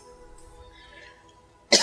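A sudden loud cough bursts out near the end of a quiet stretch, close and alone, with a throat-clearing quality.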